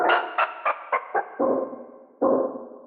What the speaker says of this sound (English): Let's add a bit of reverb to prolong the note and give it a larger sense of space.